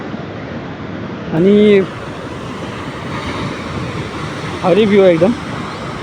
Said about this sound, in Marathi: लाटा बघा हे लाटा.